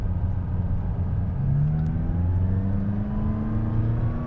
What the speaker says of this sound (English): it's a much more engaging gear shift. Feels faster, you hear it, it's more fun